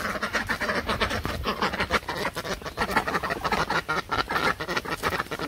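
A flock of village ducks returning home at nightfall, quacking densely and continuously, many birds overlapping close by with no pauses.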